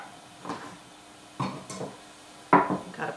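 A pan is handled in a home kitchen during food prep, giving three distinct clanks and knocks spaced about a second apart, close and fairly crisp against a quiet background.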